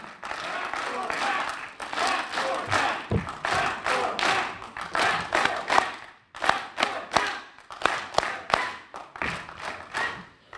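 A crowd at a hall of fame ceremony breaks into loud sustained applause, dense clapping with thumps and cheering that rises and dips in waves, with voices shouting through it.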